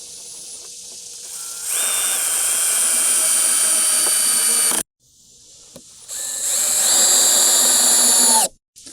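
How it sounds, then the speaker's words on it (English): A power drill drives old screws into wood on a DIY Halloween ticket booth in two long whining bursts, each spinning up with a rising pitch and cutting off sharply, with a brief pause between them. "I'm going to go ahead and screw this in a couple of places"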